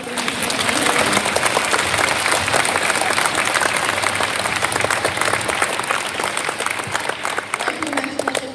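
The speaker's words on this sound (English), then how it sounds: "So how about one more round of applause for all of the musicians." A school band and orchestra concert audience gives the musicians a loud, sustained round of applause, thick and even from start to finish with no talk over it.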